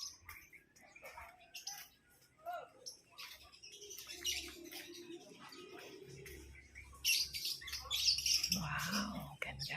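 Birds chirp and squawk close by outdoors in a garden, a busy mix of calls, while people talk softly underneath.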